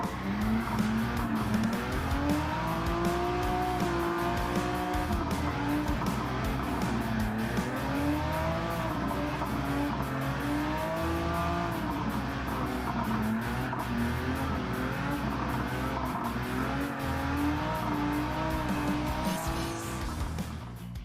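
A car drifts around the Suzuka circuit in Gran Turismo 7, played with a steering wheel, with a steady engine drone and long wavering tire squeal that runs continuously and loudly throughout.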